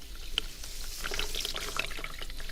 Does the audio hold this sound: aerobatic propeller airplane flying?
no